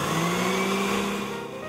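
A blender whirs steadily as it purees moss with stale beer or buttermilk, a continuous loud motor drone with no pauses and no voices.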